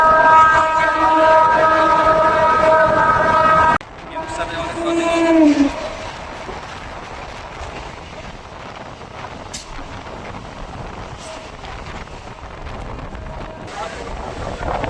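A Sealdah division local train rolls into platform 1 at Khardah railway station, heard from on board. A sustained tonal blare opens, then it cuts off into steady rumbling and heavy wind buffeting that carry on to the end.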